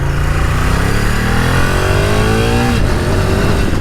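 Ducati-powered DRZ motorcycle engine revving loud and close, pitch climbing steadily for a few seconds before dropping off abruptly, with constant engine roar throughout and no talking.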